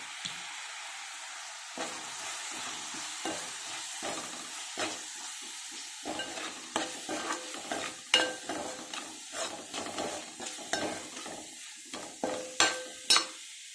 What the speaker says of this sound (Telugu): ఇప్పుడు ఫ్రై అవుతుంది కదా టమాటా కూడా బాగా ఫ్రై అవ్వాలి